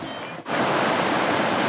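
Water of a stream rushing steadily beneath a hiking trail bridge on the way up Kings Peak, Utah, a broad, continuous close wash that swells in after a brief dip and holds loud to the end.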